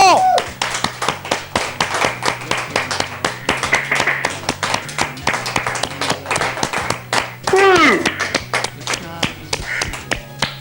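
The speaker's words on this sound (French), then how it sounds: "Applaudissements!" Studio audience on a French TV game show clapping steadily after a child contestant wins a prize, dense rapid hand claps filling the room with a brief cheer partway through.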